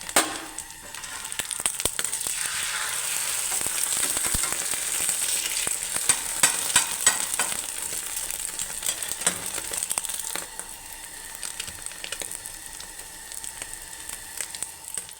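Breakfast snacks frying in hot oil in a home kitchen, a close, continuous sizzle with occasional stirring clicks and crackles throughout.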